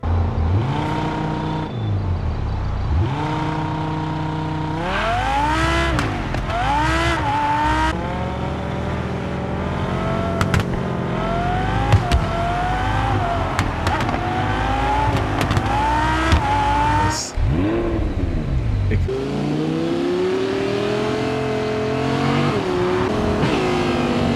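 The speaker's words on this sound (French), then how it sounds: "Petit gameplay juste pour faire écouter un peu le son de la Huracan" A Lamborghini Huracán engine in the racing game Test Drive Unlimited Solar Crown roars continuously, revving up and down through rapid gear shifts, loud and close, with brief tire squeals.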